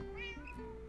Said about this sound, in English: I got the kitty cat!